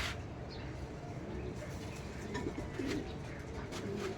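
A visiting pigeon coos at a loft, soft low calls over a faint, steady background hum, with no talking.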